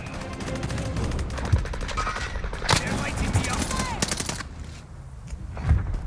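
Rapid bursts of gunfire from the Call of Duty: Warzone Pacific shooter, including an Owen submachine gun, crackle steadily throughout with sharp louder shots, mixed with game sounds and players talking over it.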